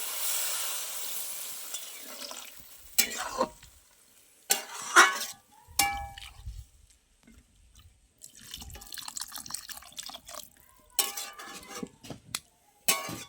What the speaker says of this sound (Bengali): এবার আমি এতে জল দিয়ে দেবো। দিয়ে দিচ্ছি জল।